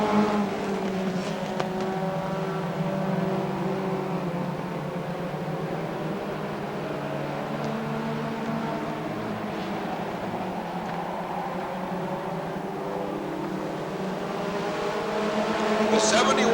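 Stock cars race wheel to wheel down the back straightaway at Rockford Speedway in 1989, a continuous loud roar of several engines droning together with shifting pitch, a commentator speaking over it.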